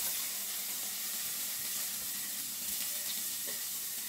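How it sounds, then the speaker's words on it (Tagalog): Garlic sautéing in a small amount of leftover cooking oil in a pan, giving a steady close sizzle with soft crackle and faint watery stirring throughout. "Gamitin natin sa gisa ng ating bawang, sibuyas, and then kamatis"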